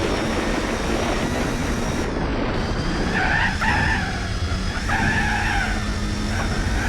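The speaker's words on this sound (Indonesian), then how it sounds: "Jadi harus kita menggunakan engine brake, mengurangi gigi dari transmisi." A car slows on engine braking as the driver shifts down through the gears, a steady engine and road roar with a rising whine and brief tire squeal, close and loud, with no talking.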